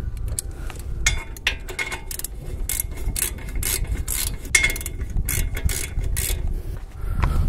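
A hand ratchet snugs down the brake caliper bracket bolts on a Toyota Camry, Lexus ES350 or Avalon front brake job, a rapid close-up clicking that runs unbroken for several seconds with no one speaking.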